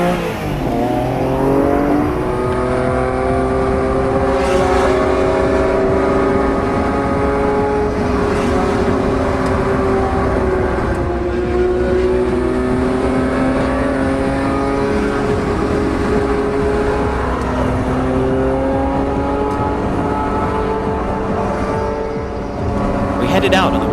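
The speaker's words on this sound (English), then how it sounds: "We headed out on the Wangan Expressway and played a little game of tag with 11 highly modified NSXs." Several highly modified Honda NSX cars race along the Wangan Expressway, engines droning and revving steadily throughout with shifting pitch as they run close together, loud and continuous, with some voices faintly under the roar.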